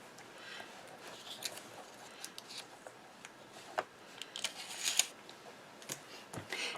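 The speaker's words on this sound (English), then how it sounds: "And I'm going to remove my temporary tape." Temporary tape peeled off paper during a vellum craft project, a quiet close-up series of soft crackling strips and small ticks, with one sharper rip near the middle and light handling noise.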